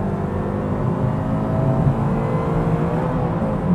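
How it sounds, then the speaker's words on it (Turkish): A 2012 Toyota GT86 accelerates at full throttle in Drive after kicking down to its lowest gear, a loud, sustained engine roar heard from inside the car with rising drone and no speech. "Mesela şu anda D'de tam gaz yapacağım. En düşük vitesi de aldı. Bastım."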